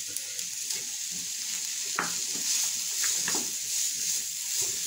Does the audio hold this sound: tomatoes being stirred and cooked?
yes